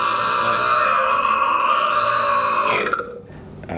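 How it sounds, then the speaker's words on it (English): A long, drawn-out burp recorded as a sound sample for a dinner scene in the Christmas film Elf, loud and close, squeezed out in one continuous throaty stretch before cutting off near the end. "Right now we're sampling some burps for Buddy at dinner."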